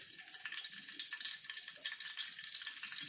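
Garlic fries in a pan of hot oil ahead of dried fish, giving off a steady, fairly soft sizzle that crackles continuously without talk.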